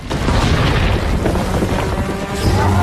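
In a sci-fi scene from The Mandalorian season two, a remote-detonated bomb blows apart a giant serpent creature, making a loud, sustained, rumbling blast that fills the whole moment without letting up.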